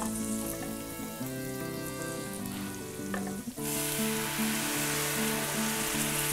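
Ground beef sizzles loudly in a hot pan, then red wine poured in for deglazing brings a sudden bright, hissing burst that carries on as a dense, steady sizzle.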